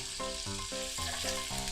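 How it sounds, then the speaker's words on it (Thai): Pork belly stir-fried for yakisoba in a hot pan, a steady loud sizzle and crackle with rhythmic scraping strokes of a spatula repeating about every half second, no talking. "ผัดหมูให้สุกค่ะ"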